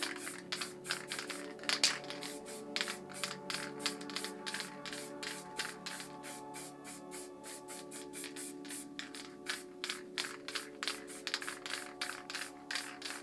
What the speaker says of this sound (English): all I'm going to do is like just mist a bit of black back into the painting in places